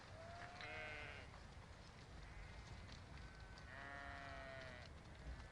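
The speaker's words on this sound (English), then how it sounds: "The sheep are brought down from the frozen hills at this time of year to the shelter of farm buildings." Sheep bleat inside farm buildings after being brought down from frozen hills, several wavering calls rising over a steady, noisy indoor background, with no talking.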